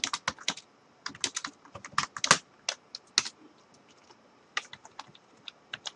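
Rapid bursts of keystrokes on a computer keyboard while C code is typed, irregular clusters of close, crisp clicks with short pauses between runs, no talking.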